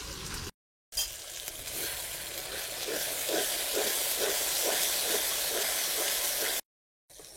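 A spice paste of chilli and turmeric powders fries in oil for a restaurant-style duck curry, producing a steady, close hissing sizzle that runs for several seconds between two brief silences.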